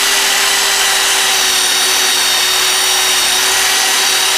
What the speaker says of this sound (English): This method, because it spins slower than that high-speed buffer, will take a little bit more time off the edge of that.